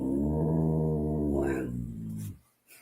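A pet dog vocalizes on command indoors, a long drawn-out whine-growl held for about two seconds, close and fairly loud, before trailing off into quiet.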